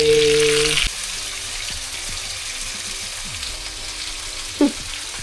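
Fish frying in coconut oil in a Kerala-style home kitchen, giving a steady broadband sizzle throughout, louder at the start with a brief tonal hum, and a short clatter near the end.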